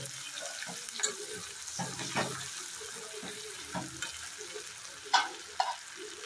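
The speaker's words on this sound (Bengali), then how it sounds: "এটাকে আমি একটু ভেজে নিব" Four small dried puti shutki fish frying in a pan, a soft continuous sizzle with occasional clinks and scrapes of stirring, close and moderately quiet, no voices.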